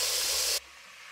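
Beef searing in oil in a Dutch oven for a beer-braised stew gives a loud, bright hiss for half a second that cuts off abruptly to a faint background.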